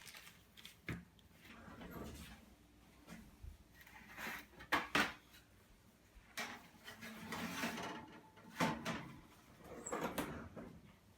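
Metal sheet pan holding salmon en papillote slid into a kitchen oven, with scattered clanks, scrapes and a door-like thud spread over several seconds at moderate, close volume.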